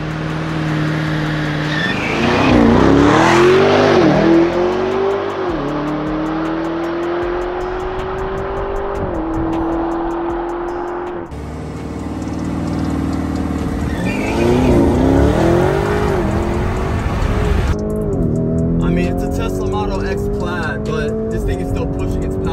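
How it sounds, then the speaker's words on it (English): A Lamborghini Urus and a Tesla Model X Plaid drag race: loud engine roar rising through gear shifts, tire squeal and a rushing pass-by, with a second surge of acceleration later and voices shouting underneath. "Alright, Lamborghini truck versus Tesla Model X Plaid."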